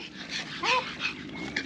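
A dog whimpers close by at a riverside campsite, giving thin, rising and falling whines over a steady outdoor background.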